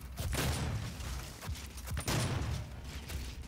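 Heavy shotgun blasts boom in a video game firefight, a few loud thumping shots spaced across a few seconds, close and without talk.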